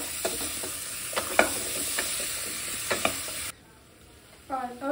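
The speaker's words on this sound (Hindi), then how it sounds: "और एक बार अच्छे से मिक्स करेंगे कि जो हमारे सारे स्पाइसेस हैं वो एप्पल के साथ भी आ जाए।" Chopped apples and spices are stirred in a hot pan, with a soft continuous sizzle and a few distinct spoon scrapes. The cooking noise cuts out near the end, leaving quiet with a brief faint sound afterward.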